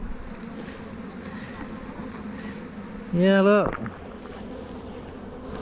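Honey bees buzzing around an open hive with a laying queen, a steady low hum throughout, with one bee zipping close past for a loud, rising buzz midway. A person speaks briefly.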